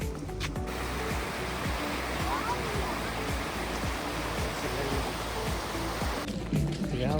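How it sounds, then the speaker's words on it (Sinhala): Floodwater flows through a river at Kataragama in Sri Lanka after a flood, a steady, close roar of rushing water that holds constant throughout. "දැන් පොඩ්ඩක් අඩු වෙලා තියෙන්නේ වතුර පාර."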